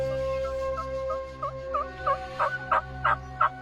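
A wild turkey gobbles repeatedly during a hunt, each call rising in loudness and coming in a quickening series of rattling bursts over a steady low background hum.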